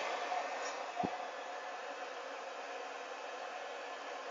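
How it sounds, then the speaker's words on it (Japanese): A hair dryer blows steadily on a dachshund being dried after a shampoo, a continuous broadband whoosh held at an even level throughout, with one brief low thump early on. "ドライヤー、使ってます"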